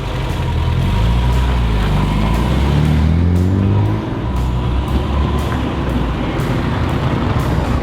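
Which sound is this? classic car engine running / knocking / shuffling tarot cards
classic car engine running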